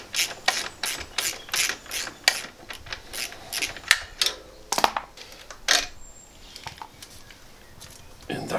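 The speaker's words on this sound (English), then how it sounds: "And now remove the 12mm nut and bolt." Quick bursts of ratchet clicking from a 12mm spanner undoing the nut and bolt on a Royal Enfield 650 Twin motorcycle's silencer, close and fairly loud in rhythmic runs with brief pauses, then a sparser few clicks at the end.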